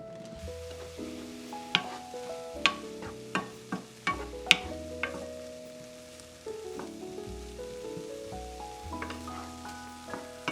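Corn and peppers cook in a pan, soft sizzling beneath sharp intermittent clacks and scrapes of a utensil stirring, with a low background hum and no talk.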